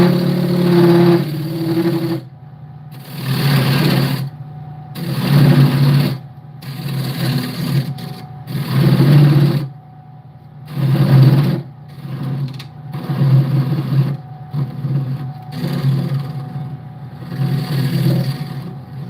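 A wood lathe spinning a bowl blank while a tenon recess is cut, a low motor hum with repeated swelling bursts of cutting noise roughly every two seconds, close and fairly loud, no speech.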